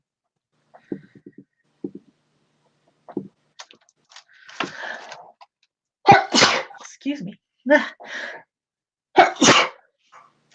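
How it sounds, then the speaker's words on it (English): A single loud, close sneeze bursts out during a live watercolour painting session, followed by a short spoken apology; quieter pencil and handling sounds come before it. "I guess I needed to sneeze."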